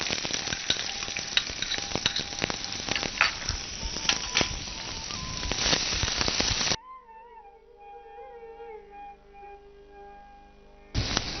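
Fenugreek seeds and onion sizzle loudly in hot oil for a chili curry, a dense crackling hiss that cuts out abruptly to near silence with faint tonal sounds before the sizzle bursts back at the end.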